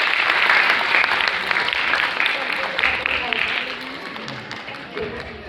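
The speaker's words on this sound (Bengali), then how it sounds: "ম্যামের জন্য একটা জোরে হাততালি" Loud, sustained applause from a crowd at a children's dance school annual programme, a dense wash of clapping that fades slightly toward the end.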